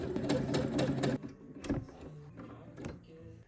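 A sewing machine runs in quick rhythmic stitching bursts for about a second, then stops, followed by a few scattered mechanical clicks and taps nearby.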